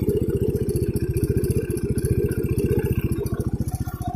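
Automatic scooter engine idling close by after reaching high exhaust temperature, a steady rapid low thrumming pulse with a light mechanical clatter, running evenly on its own.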